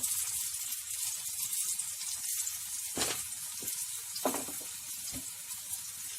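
Mutton tikka kabab pieces, made soft without raw papaya, fry in a pan with a constant bright sizzle, broken by a few sharp clinks or stirring knocks.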